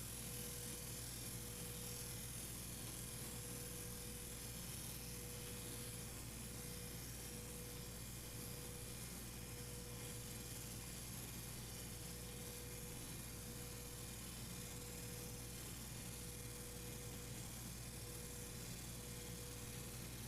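A CNC engraving machine makes a steady, faint lightening pass across a 3.5-inch brass coin, its spindle holding an even, continuous whine over soft broadband hiss with no breaks.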